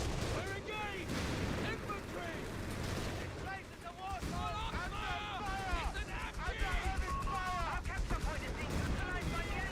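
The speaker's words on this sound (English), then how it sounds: "all these AT guns, but the Stug D still reliably bouncing the shots" Anti-tank gun shots bouncing off a StuG D assault gun in a Company of Heroes 3 battle, a dense mix of booming impacts and cannon fire under continuous busy game sound and a talking voice.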